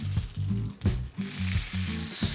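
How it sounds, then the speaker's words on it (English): Fish sizzles skin side down in butter in a hot pan, a steady close crackling hiss that runs through the whole moment under low, droning background tones. "You can really feel that sizzling away there, can't you?"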